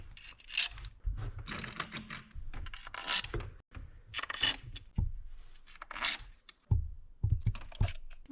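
Bolts are threaded back into an Audi B7 RS4 engine during an oil leak and injector repair, with irregular close metallic clicks, ratcheting and clinks of tools and hardware.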